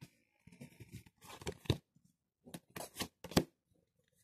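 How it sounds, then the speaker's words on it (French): Tarot cards drawn one by one from a deck, close papery slides and flicks in short separate bursts with quiet gaps between them. "Je tire 5 cartes."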